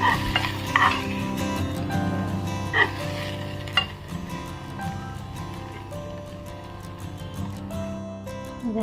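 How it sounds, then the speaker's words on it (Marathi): Masala idli with fresh coriander being stirred and tossed in a pan, soft scraping and light frying sounds running throughout, mixed under steady background music. "आता आपण त्याच्यामध्ये आहे ना ही कोथिंबीर ॲड करूया थोडं ना चांगलं मिक्स करून घेऊया"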